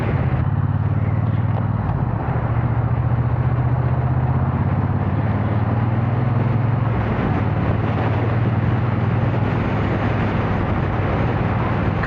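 A Triumph Bonneville T120 motorcycle cruising on the road, its engine giving a steady low thrumming drone mixed with continuous wind rush, close and loud for the whole twelve seconds without pauses.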